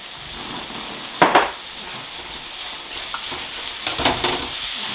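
Cabbage, grated carrot and leeks sauté for cheese kottu, crackling in a hot pan as a utensil stirs them, with a couple of sharp scraping knocks standing out above the steady frying.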